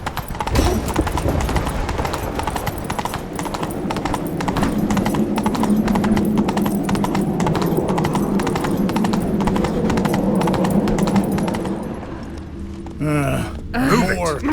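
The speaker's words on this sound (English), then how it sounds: "Grab a horse, we'll chase him down." Horse hooves gallop in The Witcher 3 video game, a fast, steady clip-clop that holds loud and close for about twelve seconds over in-game ambience, then gives way to a short whinny-like sound.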